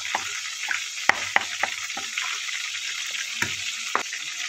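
Butter sizzles and crackles steadily in a cooking pot, with a few sharp clicks and knocks like a utensil tapping the pot, all close by and with no talking.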